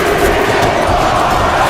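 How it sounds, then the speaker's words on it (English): A capacity crowd in a WWE wrestling video game roars and cheers in a loud, dense, continuous wash of massed voices. "you hear this capacity crowd following you on that journey"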